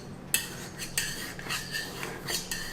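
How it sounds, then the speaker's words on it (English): A metal knife taps and scrapes against a dish while cutting into soft, spongy sago pudding, giving several clear, close clinks spaced about half a second apart. "So let's put a knife through"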